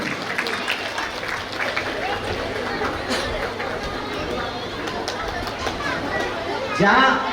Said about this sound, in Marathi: जोरदार टाळ्या होऊन जाऊ द्या सगळ्या सगळ्या सगळ्या विनरसाठी